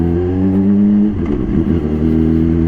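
Up close, a Honda CBR 600 RR HRC Edition sportbike with an Akrapovic exhaust hums loudly and steadily, then blips the throttle midway in a short, rough rev before settling back into its even drone.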